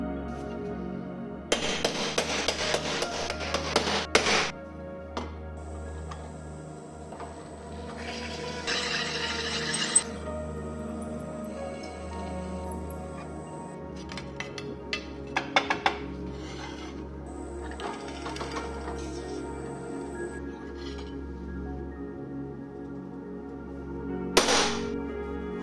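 Work on an aluminum plate gives repeated close bursts of harsh rasping and grinding, separated by short pauses, with sharp metallic clicks between them.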